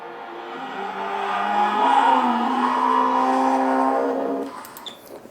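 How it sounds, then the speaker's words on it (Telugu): AI-generated sound of a car driving past, a rising engine roar that swells through the middle and fades out near the end, with no talking. "ఇప్పుడు ఒక కారు వెళ్తుంది, ఆ కారు తగ్గ సౌండ్ జనరేట్ చేశారు."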